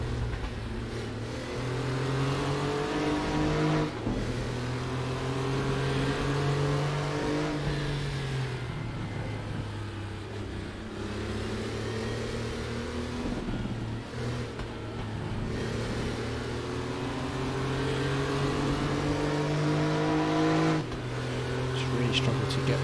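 Porsche Carrera Cup race cars in a racing video game at Hockenheim drone and rise and fall in pitch as they lap, engines loud and continuous under a commentator's voice.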